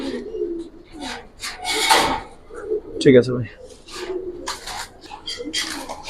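Giribaz pigeons coo in low throaty bursts amid a man's close speech, with a wooden knock and rustling nearby.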